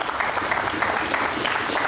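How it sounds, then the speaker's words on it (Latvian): Studio audience applause on a lottery TV show, a steady burst of many hands clapping together, close and fairly loud, with no speech over it. "mēs studiju atbalstam ar aplausiem mājnieki, kolēģi makšķernieki"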